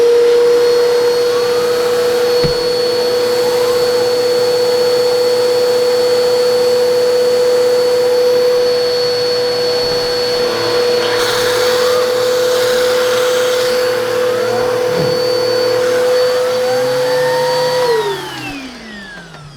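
Bissell vacuum cleaner running with a turbo tool attached through an adapter, a steady loud motor whine with a constant pitch for about eighteen seconds before it winds down.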